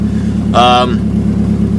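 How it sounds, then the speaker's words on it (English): A 1990 Nissan 240SX coupe with an SR20 engine idles on a cold start, running rich at about 1100 rpm with a small misfire. It makes a loud, steady, pulsing hum, and a voice briefly speaks over it. "So this is a cold start."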